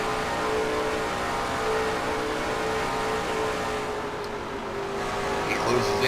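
A NASCAR Xfinity race car at speed on an onboard lap at Atlanta, its engine a steady, loud, dense roar that holds for the whole stretch with no break.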